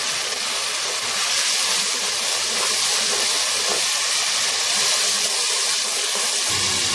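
Onions and spices frying in a pan, a steady bright sizzling hiss that holds close and even throughout, with faint occasional stirring knocks underneath.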